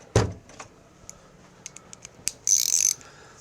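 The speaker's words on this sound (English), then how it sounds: "We need a ratchet." A 3/8 socket ratchet wrench working bolts on a Craftsman riding mower under repair: a single loud clank, then scattered light clicks and a short burst of rapid ratcheting near the end, close by and quiet between.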